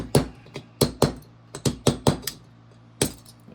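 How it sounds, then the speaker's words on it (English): A hammer taps a part of a Kimber 2K11 pistol during grip, safety and trigger upgrades: about a dozen sharp, close metallic knocks in an uneven rhythm, some quick pairs, alone with no talk. "Use a hammer here."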